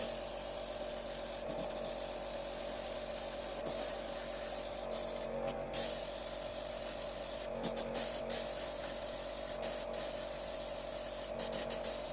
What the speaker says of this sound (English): So just fill that up with the airbrush, and we'll give this a good coat over.